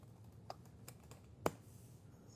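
A few quiet, sparse keystrokes clack on a small portable keyboard used with an iPad, with single taps spaced apart over a low room hum.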